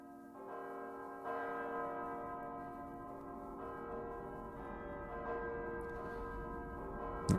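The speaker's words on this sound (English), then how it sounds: "The bells. It's like the heaven bells." Church bells ring in an anime episode, a sustained resonant peal with layered tones holding steady throughout, soft and somewhat distant with no talk over it.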